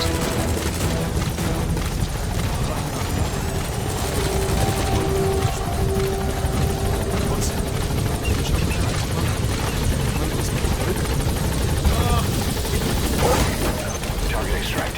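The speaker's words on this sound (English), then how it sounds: "Support helicopter is ordered." In Metal Gear Solid V: The Phantom Pain, a steady support helicopter rotor drone fills the whole stretch, loud and continuous, with scattered gunfire and voices beneath it in a battle scene.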